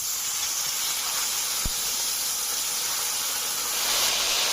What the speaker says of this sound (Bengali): এখন সামান্য একটু জল দিয়ে দিচ্ছি